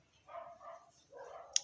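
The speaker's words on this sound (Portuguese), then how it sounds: "Eita, que tá a festa dos cachorros aqui." Dogs bark a couple of times in the distance, faint and brief, with a short sharp yelp at the end and no talking.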